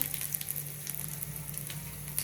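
Steady, quiet sizzling of green chillies frying in oil, a continuous crackling hiss with no voices.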